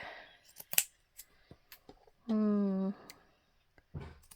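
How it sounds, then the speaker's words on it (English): Scissors make a few quick, close snips while trimming paper for a homemade envelope, with soft handling taps and rustles between cuts. "So we're just going to cut a trim of this off"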